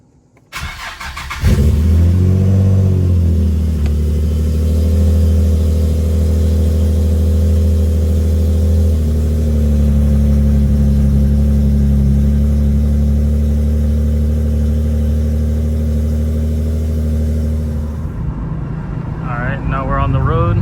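A car engine on the road during a test drive, a steady loud mid-range drone with harmonic hum that shifts pitch slightly as it runs, continuous throughout with a brief start-up at the beginning.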